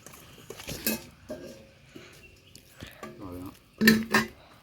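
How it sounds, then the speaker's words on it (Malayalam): Soaked rice being stirred in a pot for mandi, with scattered clinks and scrapes of a utensil against the cookware and a short louder clatter near the end, under faint background talk. "അപ്പോൾ ഈ ഇതിനകത്ത് ഇളക്കി കൊടുക്കട്ടെ"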